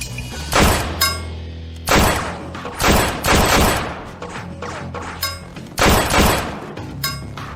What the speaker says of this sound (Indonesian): Tidak masalah, satu tembakan tidak cukup. Satu tembakan lagi.